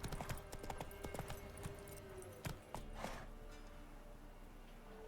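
Roach the horse's hooves clip-clop in The Witcher 3, a quick rhythmic trot of sharp hoof hits that slows and fades to quiet.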